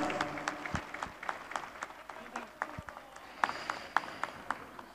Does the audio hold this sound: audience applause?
yes